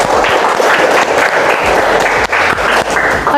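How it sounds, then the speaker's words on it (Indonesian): A classroom of students claps together, loud and sustained, a dense burst of applause from close by. "Oke, tepuk tangan dulu, tepuk tangan."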